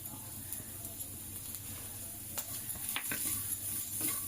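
Chopped green chilli, French beans, carrot and grated cabbage with ginger-garlic paste sautéing in ghee in a pan, a soft steady sizzle with faint stirring scrapes and a few brief clinks, fairly quiet and without talk.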